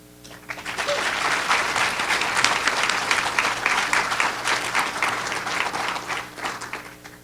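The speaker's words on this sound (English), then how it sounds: "Let's have another round of applause for all of our honorees." Audience applause for honorees at the 2022 Leadership Kitsap "20 under 40" event, a dense, steady round of many hands clapping that swells in after a quiet start and holds for several seconds.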